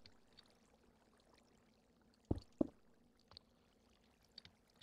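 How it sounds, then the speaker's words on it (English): Water tipped from a bucket in Minecraft lands as two quick, soft splashes close together, with faint scattered game noises before and after. "go ahead and chuck your water bucket in there"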